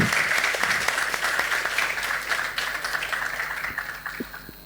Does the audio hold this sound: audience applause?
yes